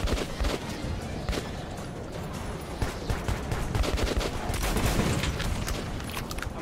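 Rapid bursts of gunfire in the Metro 2033 Redux video game, dense overlapping shots and booms rolling continuously for several seconds, loud and close throughout.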